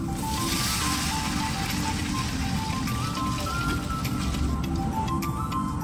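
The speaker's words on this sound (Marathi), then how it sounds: "आता आपण तांदळाच्या 2 पट पाणी घालून घेणार आहे भातासाठी" Water poured steadily into a cooking pot for rice, twice the amount of the rice, making a continuous close splashing rush with no break.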